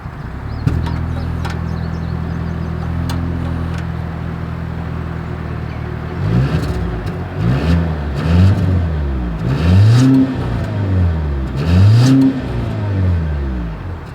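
A 2025 Volvo XC90 exhaust heard while driving: a steady drone at first, then loud rising and falling engine sweeps as the SUV accelerates through several gear changes, close and with no talking.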